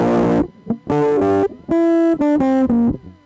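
Electric guitar run through an Arduino-based distortion effect with the gain turned up, a handful of loud, buzzy distorted notes and short chord stabs separated by brief gaps, clean and up close.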